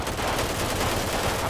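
Gunfire in GTA 5 crackles in a brief, rapid burst, loud and close, with no talk over it.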